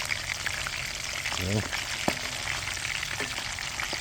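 Duck liver frying in hot oil in a pan, a steady close sizzle running throughout, with a brief clink and a short pour-like splash partway through.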